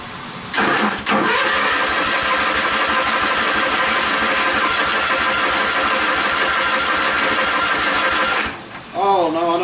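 A Mini Semi V6 engine cranks continuously in a steady rapid rhythm for about eight seconds without catching, loud and close, then stops as a voice speaks briefly at the end.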